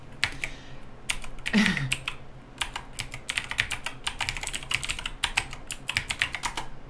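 Fingers type on a PC keyboard that has been damaged by spilled soda, leaving some keys dead. Close, irregular bursts of clicking key presses run throughout, with a brief scraping shuffle early on and no talking.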